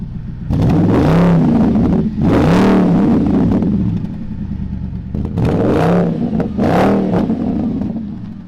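Audi A6 with a V8 engine revving hard in four loud surges, each climbing in pitch and falling back, with the engine rumbling steadily between the bursts.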